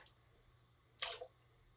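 A brief splash of running water rinses a salinity refractometer, a short quarter-second gush over a quiet room hum, close by.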